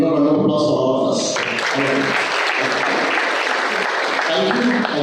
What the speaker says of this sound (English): round of applause for all of us.